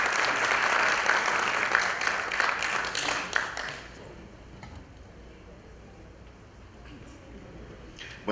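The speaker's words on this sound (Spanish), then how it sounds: "Recibimos con un fuerte aplauso" Loud, sustained audience applause fills a conference hall at the RERSI 2025 keynote talk for several seconds, then fades to quiet murmuring and a few scattered claps.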